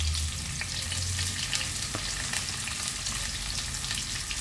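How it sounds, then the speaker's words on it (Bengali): Chopped onions sizzle in hot oil with nigella seeds in a pan, a close, steady crackling fry that continues without a pause and with no voices. "এবার পেঁয়াজগুলো ভেজে নিতে হবে"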